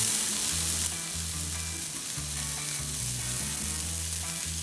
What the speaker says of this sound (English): Don't you just love that sizzle?